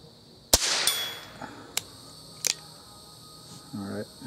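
A CCI .22 CB Short cartridge fires outdoors as a single sharp, fairly quiet crack, followed by a few small clicks and a brief voice near the end.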